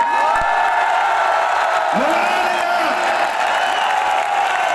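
A large audience at a wellness convention event cheering and clapping loudly, a dense roar of crowd noise with whoops rising over it and voices mixed through the din.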